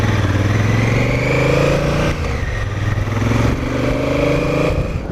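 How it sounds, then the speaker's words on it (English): A Honda CRF1000L motorcycle on factory gearing pulls away from traffic lights, its engine labouring with a steady low drone that rises briefly, then dips and resumes. "you can hear it take off from the lights, and it's really labouring and really just tending to bog down"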